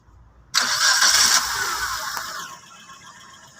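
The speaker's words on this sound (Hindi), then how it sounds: "स्टार्ट करके आवाज़ साउंड देख लें आप," A Suzuki Alto car engine cranks and catches with a sudden loud start, then settles into a steady, slightly quieter idle, close by with no talking.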